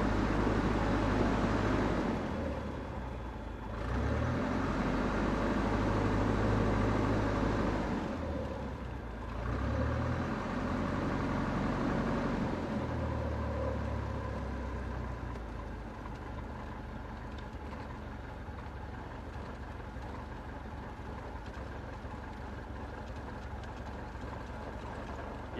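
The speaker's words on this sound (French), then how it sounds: "on fait déjà les essais moteurs et tout." Aircraft engine on a ground test run: a steady, low droning hum that shifts in tone a few times early on, then settles into a constant, even drone with no talking.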